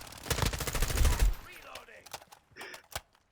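An M4 rifle in Modern Warfare 2 fires a fast, loud automatic burst for about a second, followed by a few scattered single shots and softer game sounds as the action fades.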